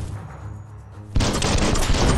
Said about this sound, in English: Explodey. Shoot it and watch it blow.